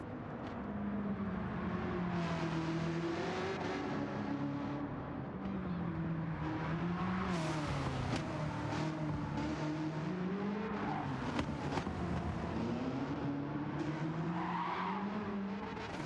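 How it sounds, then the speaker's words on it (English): A Nissan S14 Aero carrying a swapped Chevrolet C7 ZR1 engine, driven in Gran Turismo 7, roars continuously, its pitch rising and falling through revs and gear changes while the tires squeal, loud and close with no talk. "the S14 Aero, which gets the C7 ZR1 engine swap."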